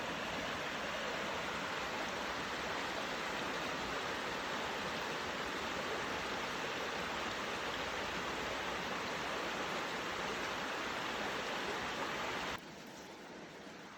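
Steady, rushing water of Blackwell Creek, Georgia, flows continuously at a constant loud level without pause before dropping off abruptly near the end.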